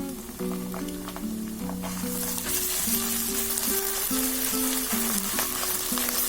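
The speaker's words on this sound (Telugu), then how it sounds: "ఆనియన్స్ ఫ్రై అయిపోయాయి. ఇప్పుడు మనము జింజర్ గార్లిక్ పేస్ట్ వేసుకున్నాము." Onions and ginger garlic paste fry in a pan for a chicken curry, giving a steady, close sizzle with stirring scrapes layered over it. Music plays quietly underneath throughout.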